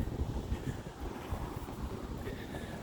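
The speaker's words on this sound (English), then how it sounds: "It's a little more breezy out here than I thought it was going to be." Steady wind buffets a microphone on an open hilltop outdoors, a continuous low rumbling roar with gusty swells and no other sounds.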